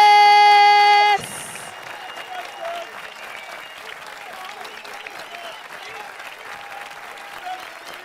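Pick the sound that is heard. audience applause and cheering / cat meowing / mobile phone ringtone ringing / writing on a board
audience applause and cheering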